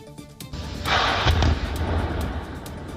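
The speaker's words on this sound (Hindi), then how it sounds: "यहां थर्मल पावर प्लांट की बेकार हो चुकी चिमनियों को ब्लास्ट करके गिराया गया" Thermal power plant chimneys are brought down by explosive demolition: a heavy blast bursts out about a second in, followed by a deep, continuous rumble of collapse heard from a distance.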